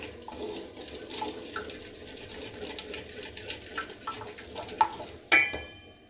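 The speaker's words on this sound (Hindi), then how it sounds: "सूजी भुन रही है।" Semolina roasting in a pan for suji halwa, a soft continuous stirring and faint sizzle with scattered scrapes and light clinks of the utensil against the pan, ending in a sharper metallic knock.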